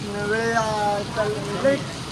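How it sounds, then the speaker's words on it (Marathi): Steady rain falling in Dwarka, a continuous broadband hiss running through the whole stretch while people talk over it. "द्वारका में बहुत बारिश हो रही है।"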